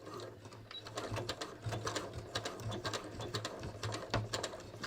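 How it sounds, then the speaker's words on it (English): A sewing machine stitches along the lower front waistband of ready-to-wear jeans, its steady rapid mechanical chatter running continuously and close, with a low motor hum beneath the needle's rhythmic clatter. "I'm going to stitch along the bottom of my waistband"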